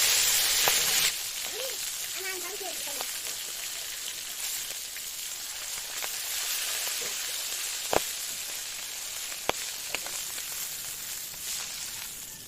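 Fish pieces fry in hot oil for a cooking fish curry with potatoes, giving a steady crackling sizzle throughout with a few sharp pops and spits near the end.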